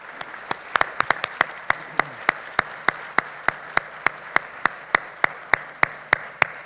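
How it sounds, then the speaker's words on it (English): Steady, evenly spaced single claps ring out one after another at a regular beat, with a faint background of lighter clapping from an audience at a school board debate. "Let's give our candidates a round of applause, shall we?"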